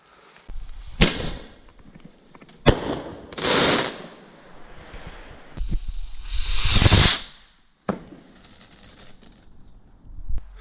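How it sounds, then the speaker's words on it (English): A large 16 gram Whiz Bang firework shot tube goes off in a series of loud, sharp bangs spaced a second or two apart, each followed by whooshing hiss and crackle, with brief quiet between shots. "the large 16 gram Whiz Bang shot tube"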